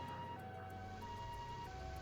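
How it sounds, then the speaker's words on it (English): An ambulance siren in the video game Trails to Azure wails in a steady, continuous electronic tone over a low vehicle rumble, with no talking. "Ambulance."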